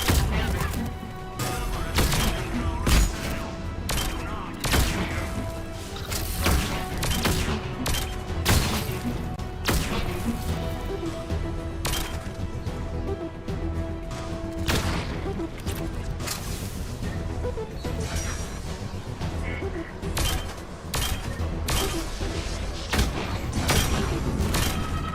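Gunfire crackles in Mass Effect 3 as enemies are shot, dense bursts of rapid shots and impacts repeating throughout over a busy game soundscape.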